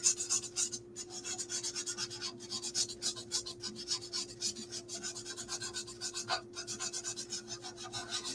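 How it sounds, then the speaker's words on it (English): Steady back-and-forth rasping of sandpaper on wood, a rhythmic scrubbing that continues throughout, close and fairly loud, with a constant low hum underneath. "I know you should be sanding with the grain rather than against it"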